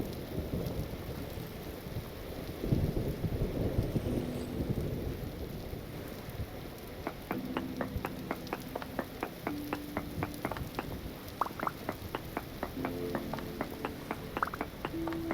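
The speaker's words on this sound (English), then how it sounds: "I settle in an uncommon area and it's raining constantly." Steady rain falls in the Vintage Story game, a soft continuous patter with a low rumble of thunder early on, alongside rhythmic clicking footsteps or tool sounds.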